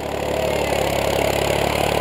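A New Holland 3600 Heritage Edition tractor engine idles close by with a steady, throbbing low rumble, running on by itself with the driver off the machine and no voices heard.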